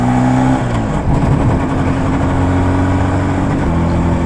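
An IZh Jupiter-5 motorcycle pulls away on the streets of Chernihiv, its engine note loud and close, stepping down through shifts at the start and then droning steadily with wind noise and no speech.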